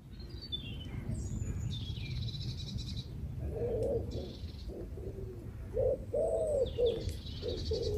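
Birds call in a warm forest: a dove coos repeatedly in soft, rounded phrases while thin high chirps come and go in the distance over a low background rumble, with no voices.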